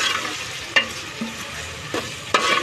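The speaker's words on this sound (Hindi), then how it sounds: "इसको ऐड करने के बाद अच्छी तरह से चम्मच चला दूँगी" Chopped tomatoes and green chillies stirred into mutton frying in a pan for yakhni pulao: a constant sizzle broken by three or four sharp spoon scrapes against the pan, close and clear, with no voices.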